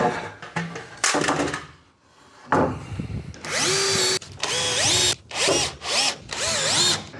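A power drill drives screws into wooden garage shelving in several bursts, each whine rising in pitch as the screw bites and tightens, close and loud, separated by short pauses and brief handling knocks.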